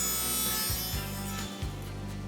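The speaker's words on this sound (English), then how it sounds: "I'll cut the notch, making a series of passes across the dado blade." A dado blade on a saw cuts a notch across a wooden workpiece in a series of overlapping passes, producing a loud, continuous whirring grind that dips briefly between strokes.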